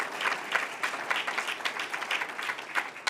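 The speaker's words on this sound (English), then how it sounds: "So I'm going to give an applause for that." Audience applause during a public conversation event with a state governor: continuous, fairly dense clapping from a crowd at moderate loudness.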